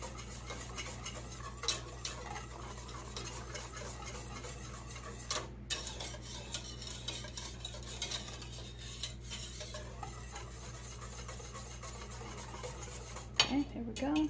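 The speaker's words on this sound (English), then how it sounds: "I'm going to switch this out for a whisk, because I want this to really get mixed in" Whisk stirring ranch dressing in a bowl, a quiet, rapid run of light scraping and ticking strokes against the bowl, steady throughout with a few sharper clinks.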